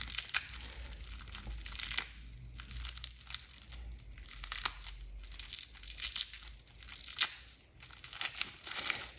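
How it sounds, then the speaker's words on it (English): Plastic saran wrap crinkles and tears as it is peeled off a fig cutting, in irregular close bursts of crackling with brief pauses between. "If there is a secret to unwrapping saran wrap easily, I don't know it."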